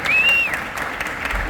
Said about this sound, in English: A big round of applause for Councilwoman Hunt